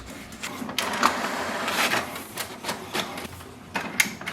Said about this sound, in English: because sometimes the printer prints the alignment page